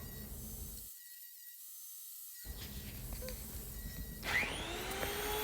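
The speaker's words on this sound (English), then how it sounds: "I ran them through the planer" Tabletop boards being fed through a wood planer to strip paint and top coat, a quiet whining machine hum that cuts out briefly then returns with a rising high-pitched cutting whine, no speech.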